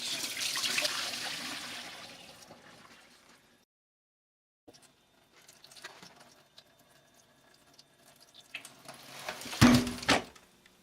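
Water pours out in a steady rushing splash that tapers off, followed by quiet and a few scattered knocks, then a brief loud clatter near the end.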